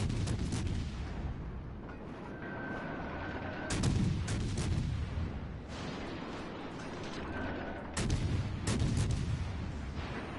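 Warship main battery guns firing at an enemy cruiser in World of Warships, heavy booming salvos landing around 3.8 and 8 seconds over a steady mechanical game drone.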